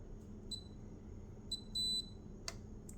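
Keypad of a Xegis palm vein recognition safe gives several short, faint electronic beeps. They are spaced irregularly, one is a slightly longer tone, and they sound over a quiet room hum.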